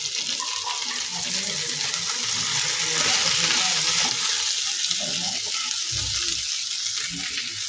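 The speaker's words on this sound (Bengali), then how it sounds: "মাছগুলো প্রায় ভাজা হয়ে গেছে।" Taki fish sizzle and crackle in hot oil in a pan, a steady close frying hiss with occasional clinks and stirring sounds.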